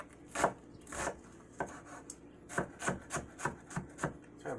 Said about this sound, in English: We're going to cut with the grain. Nice thin slices.